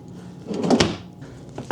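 A large dovetailed drawer with glossy finish and heavy-duty slides in the kitchen of a 2025 Jayco North Point 381CKRE RV slides shut and catches on magnetic latches, with a soft rolling push and a sharp click near the end.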